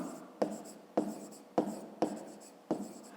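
Pen scratching on paper while working a fifth-grade maths exercise, five close strokes in a steady rhythm, each starting sharply and then trailing off, with no talk.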